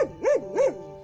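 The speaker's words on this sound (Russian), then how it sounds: "перед входом сторожевой пес" A guard dog in front of a two-storey security post at a leased lake gives two quick, close barks about a third of a second apart, loud and alone.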